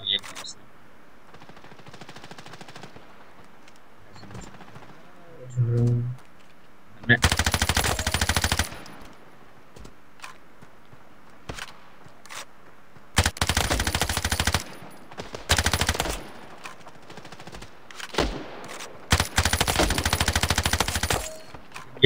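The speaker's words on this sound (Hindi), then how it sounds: "शॉटगन" Gunfire in the mobile shooter Standoff 2, including a shotgun, comes as several loud, short bursts spread across quieter stretches with faint game sounds, some closely spaced like rapid firing.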